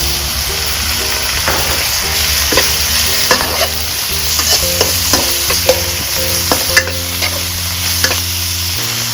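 Minced pork sizzles with cha-om in a pan as a spatula stirs and scrapes steadily, a loud continuous fry with frequent clinks of utensil on metal.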